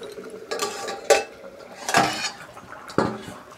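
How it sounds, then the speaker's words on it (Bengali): A metal lid comes off a cooking pot of fish curry with several sharp clanks and clatters of metal on metal, spaced apart, close and fairly loud. "ঢাকনাটা খুলে দেখি এখন বন্ধুরা।"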